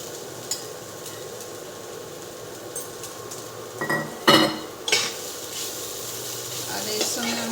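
Grated coconut and cashews warming in a pan while a utensil stirs and scrapes, with a few sharp clinks against the pan over a faint background hiss.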